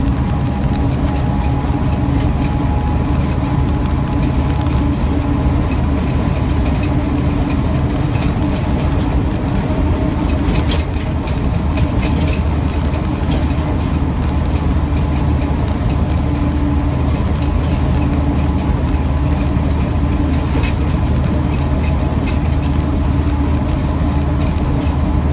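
Land Rover Series IIa 88-inch soft top with its engine running on the move, a loud, steady mechanical drone with rattling and clunks throughout, no voices.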